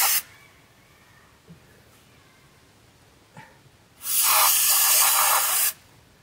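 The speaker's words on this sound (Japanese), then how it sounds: "まずはパーツクリーナーで。" Parts cleaner sprayed onto a Honda Monkey 125 during an oil change: a short hiss at the start, then quiet with small clicks, then one loud, steady, close spray lasting about a second and a half.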